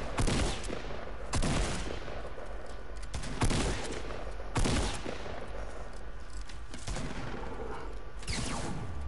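Gunshots in Fortnite, sharp loud reports arriving in separated bursts every second or two over a constant game background.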